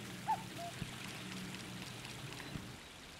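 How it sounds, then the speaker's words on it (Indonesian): A waterfall in the Story of Seasons farming game flows as a faint, steady watery rush with a few soft splashes and ticks, and no voices over it. "Oke, ini air terjun."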